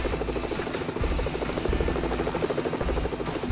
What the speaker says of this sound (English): I would have used that chopper to get out of there.